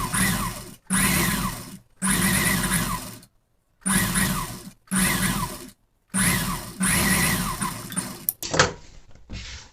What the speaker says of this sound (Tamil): நீங்கள் இதை அப்படியே இதுக்கு நேராக வந்து தையல் போட்டுங்க.